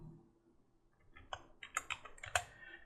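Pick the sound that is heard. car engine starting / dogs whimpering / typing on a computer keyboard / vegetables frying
typing on a computer keyboard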